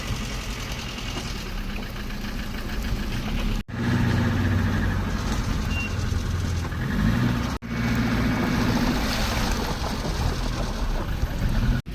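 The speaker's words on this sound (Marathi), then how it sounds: "रिवर्स घ्यावा लागेल गाडी." A car engine runs steadily while the vehicle reverses, a loud continuous low rumble with two brief cutoffs, recorded close in a rainy setting near a temple in Shirdi.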